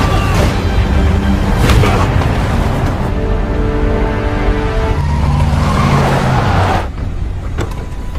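A car is driven off hard in a tense getaway after a guard is attacked, its engine loud and close with tyre noise and squeals across the clip, easing slightly near the end.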